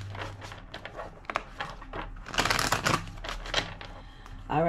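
Cards riffle and snap together in quick bursts, a dense fluttering shuffle in the middle, with a voice speaking briefly at the end.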